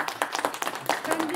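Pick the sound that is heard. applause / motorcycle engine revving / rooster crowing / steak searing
applause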